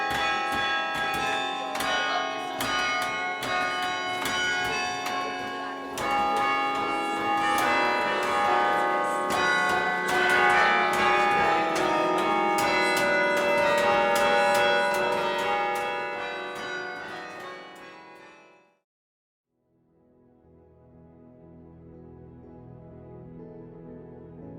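Tower chime bells played during a Halloween concert, a sustained melodic ringing of many overlapping bell tones that swells, then cuts off abruptly, followed by a fainter, quieter passage of lingering tones.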